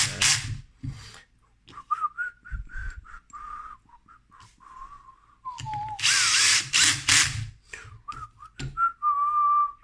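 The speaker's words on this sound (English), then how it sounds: "Getting the aluminium clamshell back together." A power driver reassembles the aluminium clamshell of a Makita 18V reciprocating saw in several short, loud, close bursts, while someone whistles a tune between them.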